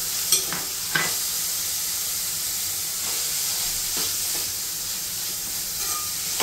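Capsicum and carrot cook in a pan with a continuous sizzling hiss, marked by a handful of light taps and scrapes from stirring.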